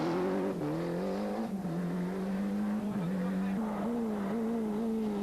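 A Ford Escort Cosworth rally car races a stage of the 1994 Rally des Hautes Fagnes, its engine droning loud and steady while the pitch rises and dips through gear changes and throttle lifts.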